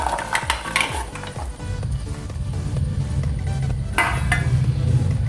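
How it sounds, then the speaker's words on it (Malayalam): Washed ash gourd pieces drop into a metal pressure cooker with a cluster of knocking clatters, followed by steady scraping and rustling from the pot. "അതിലേക്ക് കഴുകി വെച്ചിരിക്കുന്ന കുമ്പളങ്ങ ഇട്ട് കൊടുക്കുക."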